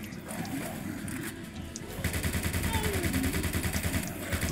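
Video game gunfire sounds as rapid, machine-gun-like bursts that grow denser and louder partway through, under a steady background of game noise.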